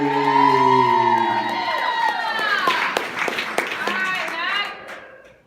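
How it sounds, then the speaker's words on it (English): Audience at a youth poetry slam claps and cheers after a young poet's reading, with whoops and shouts over scattered hand claps, trailing off as voices linger. "Give it up for Mackenzie Berry"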